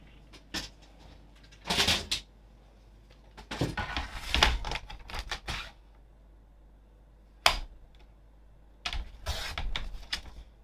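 A paper cutter scoring lines in card for papercraft, heard as several short separate swipes and clicks with quiet pauses between them, close by and with no speech.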